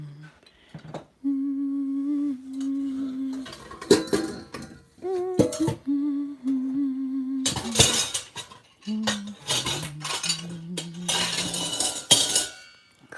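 Dishes, pots and cutlery clatter and clink as they are handled and washed, with scattered sharp metallic chinks, bursts of louder crashing, and a steady tonal hum running underneath.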